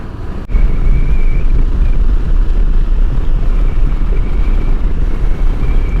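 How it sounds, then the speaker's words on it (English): Strong wind roars steadily across the microphone during a motorcycle ride, a loud continuous rumbling buffet that persists unbroken after a brief quieter start. "It is definitely windy around here."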